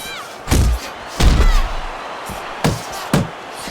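Heavy thuds and slams from the boxing video game Fight Night Champion, two big impacts followed by a couple of quicker, sharper hits, over a faint crowd-like background.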